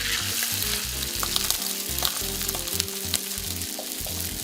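Blocks of tofu sizzling in a hot pan, a loud, continuous crackling fry with sharp pops and spatters rising over a steady hiss, close up and with no talking.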